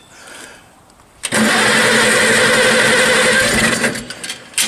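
A 1964 Evinrude Big Twin outboard motor cold-starts after a quiet lead-in, catching abruptly and settling into a loud, steady close-up running drone that wavers slightly toward the end.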